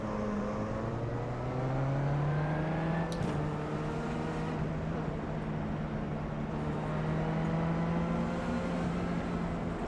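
Dallara race car engine during a formation lap in iRacing at Charlotte, a steady droning note with slowly rising harmonics as it builds speed, close and continuous with a brief click partway through and no talking.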